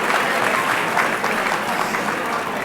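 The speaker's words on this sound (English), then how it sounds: "How about one more round of applause" An audience at a global health gala claps in a dense, continuous burst of applause, fairly close and loud, holding steady for the whole moment with no speech over it.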